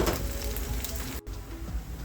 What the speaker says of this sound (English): As you can see now, my onions are getting cooked.